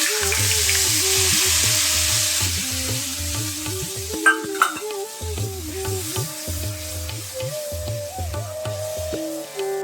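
Soaked ground spice paste sizzles steadily in a hot pan for Bengali mushroom kosha, a loud continuous fry with stirring scrapes and a few sharp clinks partway through, no voices.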